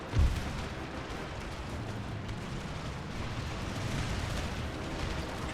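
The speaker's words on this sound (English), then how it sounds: "Dragoons firing at the square." Dragoons fire volleys at an infantry square in an Empire: Total War battle, a dense, continuous rumble of musketry and booming blasts that holds steady and loud without any talk.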